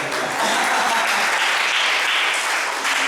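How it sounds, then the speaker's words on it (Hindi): A church congregation in Vasai applauds loudly and steadily, a dense wash of clapping that fills the whole few seconds, up close and with no voice over it. "तो अभी खुद के लिए ताली बजाए"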